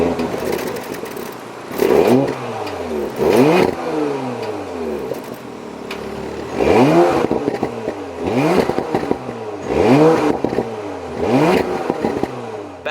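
A 2020 Porsche Macan S engine starting and revving, loud repeated throttle blips rising and falling in sharp sweeps, heard close with crackling pops between revs.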